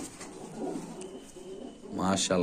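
Pigeons at a pigeon market in Bangladesh coo softly nearby in low, rolling calls, with voices of people talking rising toward the end.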